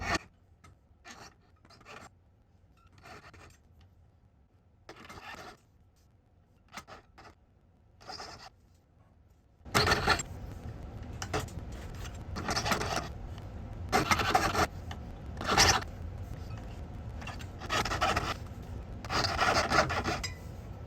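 Jeweller's saw rasping through a silver ring to cut two parallel slots, with short bursts of strokes separated by pauses at first, then a longer, louder stretch of steady back-and-forth sawing.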